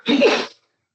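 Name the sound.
two sneezes in a meeting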